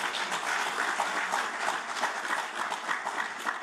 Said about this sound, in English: I would request all for the great applause